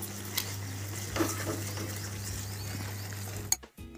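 A spoon stirs fresh cream through a creamy potato korma in a pan, giving a steady close scraping and soft clatter over a low hum that ends in a sharp knock.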